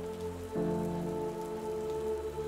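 A steady rain sound effect plays during a Pathfinder 2E tabletop role-playing session, a constant soft patter of drops under faint, sustained musical tones, with no talking.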